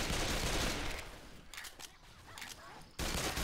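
Dense gunfire from dual pistols in the zombie shooter Left 4 Dead 2, a loud rapid crackle of overlapping shots filling the scene, briefly thinning in the middle before surging back to full intensity.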